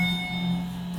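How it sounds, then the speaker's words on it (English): A loud, sustained chime rings from an Abell/Hadfield traction elevator in an apartment building, one steady tone with bright overtones lasting the full second under low hum. "That chime is loud."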